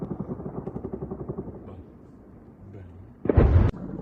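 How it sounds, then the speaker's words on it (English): A drone attack near the Kerch Bridge: a low rumble of air defense fire with faint thuds, then a sudden loud explosion burst near the end, under light background noise. "A little air defense fire. Oh, a little explosion."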